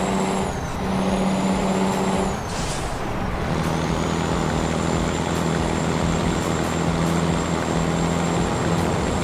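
A Freightliner FLD truck engine in American Truck Simulator drones steadily with a deep, even hum, broken early by a brief hiss like an air brake release, then settles back into a constant idle.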